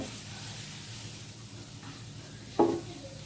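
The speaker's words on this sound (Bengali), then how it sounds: "ভালো করে ভেজে নিতে হবে ভালো করে তেলে" Grated carrots fry in oil in a pan for carrot halwa with a steady, soft sizzle, and a single sharper stirring scrape sounds near the end.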